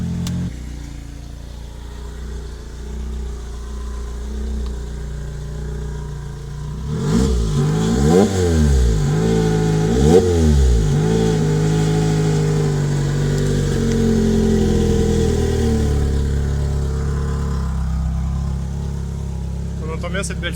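A Lotus Exige CUP260 with a stage 3 central exhaust idles, then gives two sharp throttle blips that rise and fall before settling into a raised, loud idle, with someone speaking over it.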